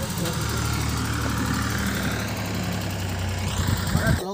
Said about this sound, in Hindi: दोस्तों ट्रैक्टर है फार्म ट्रैक